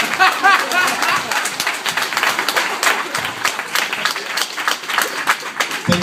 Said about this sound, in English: you should give a big round of applause